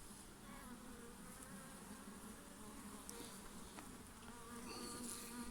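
Honeybees buzz in a dense, continuous drone during a beehive inspection, many insects close by with individual wingbeats rising and falling over the steady hum.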